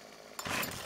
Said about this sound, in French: j'ai juste rechargé ma tronçonneuse